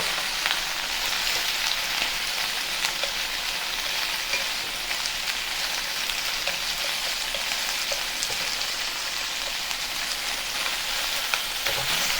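Beef sizzling in a wok over medium heat, a dense steady crackle with scattered pops, close and unbroken, with no one speaking.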